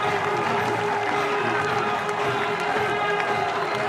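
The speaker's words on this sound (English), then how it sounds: "Cries of easy in the crowd" A large crowd roaring and cheering at a cricket match in Bangladesh as Damien Martyn of Australia is caught out, a dense, sustained wall of voices with no clear individual shouts.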